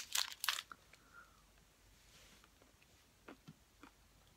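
Crunchy coconut energy bar made with cricket powder, bitten twice in quick succession with sharp crunches, then faint chewing crackles, close and quiet.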